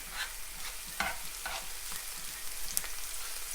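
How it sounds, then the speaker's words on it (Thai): Eggplant stir-fries in a hot pan with garlic, chili and oyster sauce, a continuous close sizzle broken by repeated scraping stirs of a utensil. "ผัดมะเขือม่วงค่ะมือนี้"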